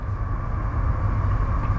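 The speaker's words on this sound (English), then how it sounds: "First train of the day" A Norfolk Southern train approaches, heard as a faint, steady low rumble with no horn or other distinct sounds.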